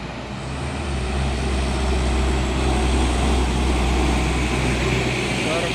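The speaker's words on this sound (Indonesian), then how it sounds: "Terpantau rame kendaraan yang melewati di tanjakan Bukit Kodok." Continuous rumble of heavy traffic, including trucks, grinding up the Bukit Kodok hill road, engines droning low and steady, with no clear pauses between vehicles.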